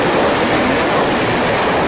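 A Meitetsu train on the Nagoya Main Line runs steadily, its wagons rumbling with a close, continuous broadband roar and faint rhythmic clatter of wheels on rail, with no voices.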